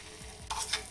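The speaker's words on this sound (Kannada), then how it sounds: "ಇನ್ನು ಮಸಾಲವನ್ನು ತುಪ್ಪದಲ್ಲಿ ಚೆನ್ನಾಗಿ ಫ್ರೈ ಮಾಡ್ಕೋಬೇಕು." Ground masala frying in ghee on a tawa, a steady close sizzle with brief scraping stirs over it.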